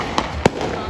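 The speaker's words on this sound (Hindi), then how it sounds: "देखिए गाइस बम पटाखे फूटते हुए यहाँ पर" Firecrackers burst during an Independence Day celebration in Ghaziabad, with two sharp, loud bangs about a quarter second apart standing out over steady background noise and crowd murmur.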